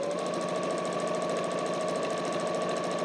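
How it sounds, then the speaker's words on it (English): Sewing machine stitching up the side of a drawstring bag lining, a steady rapid mechanical whirr and needle chatter running continuously at close range with no pauses. "I'm going to take my lining piece and sew up the other side of my lining piece"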